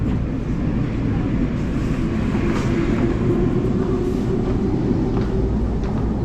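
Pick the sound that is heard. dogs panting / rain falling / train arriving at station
train arriving at station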